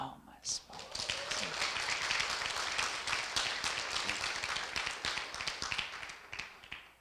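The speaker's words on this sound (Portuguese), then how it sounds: "Palmas, palmas." An audience at a talk on epigenetic medicine breaks into sustained clapping, many hands slapping in a quick, dense patter that holds steady and tapers slightly near the end.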